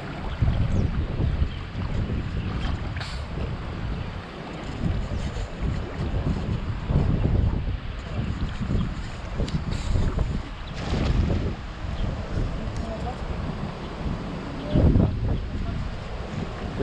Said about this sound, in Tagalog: medyo malakas po yung hangin dito